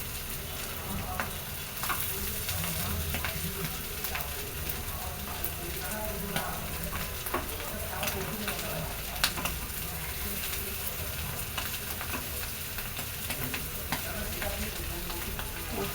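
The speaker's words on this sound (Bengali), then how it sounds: "লো হিটে ভাজতে হবে, আবারও বলতেছি হাই হিটে না, আস্তে আস্তে ভাজলে ভালো হবে।" Tilli, or spleen, fries slowly on low heat in a crowded frying pan, making a dense, even sizzle that holds steady throughout, with a few faint clicks and stirring sounds.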